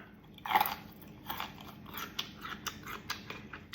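Crunchy candied Thai jujube, chilled and crisp, is bitten with one loud close crunch followed by several softer chewing crunches in a quiet room.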